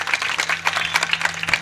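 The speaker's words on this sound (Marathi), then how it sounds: "त्यांच्यासाठी एकदा जोरदार टाळ्या वाजवा." An audience at a Marathi devotional kirtan gathering claps in thanks for the sound-system operator, a dense, steady ripple of many hands throughout the short moment, with no talk over it.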